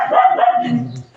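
A dog gives a single short bark that trails into a lower growling tail, close and fairly loud, with no talk around it.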